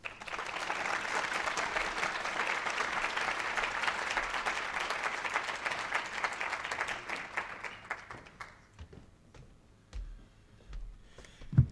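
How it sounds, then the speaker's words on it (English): An audience at a diversity and inclusion summit applauds to welcome a theater and dance professor to the podium, steady dense clapping for about eight seconds that thins out and fades, followed by a few faint movements and a brief voice. "Thanks for clapping."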